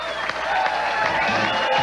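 Crowd cheering and applauding at the 1998 PBA Brentwood Classic bowling tournament after a 10-pin is knocked down, a steady broad roar of a large audience with no clear talk over it.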